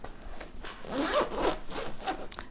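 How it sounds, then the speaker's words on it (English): A compression zipper on a packing cube being pulled closed in a few quick rasping strokes, close up and alone with no talking. "And then I'm going to zip up the compression part."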